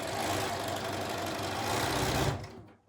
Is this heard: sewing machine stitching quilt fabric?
yes